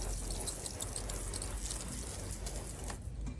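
Water sprays lightly onto freshly sown radish seeds, a soft, steady hiss that stays faint and close throughout, with no talking.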